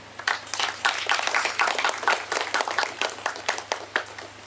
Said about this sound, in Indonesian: tepuk tangan sekali lagi untuk Luna